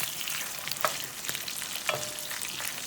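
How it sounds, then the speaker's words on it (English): Cut-up smoked sausage from a local meat market fries in a pan with a soft, continuous sizzle, broken by a few faint stirring scrapes and clinks. "I'm frying down my sausage"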